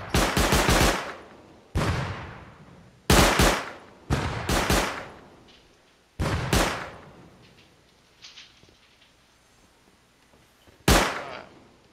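An M2 machine gun fires in a multiplayer shooter: about seven loud, close bursts of rapid shots, each cut off sharply and left ringing with a decaying echo, separated by short pauses.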